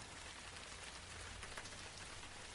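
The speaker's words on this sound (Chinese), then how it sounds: "下雨了" Rain falling on a surface: a soft, even patter with a steady hiss that carries on without a break, faint and with no voices.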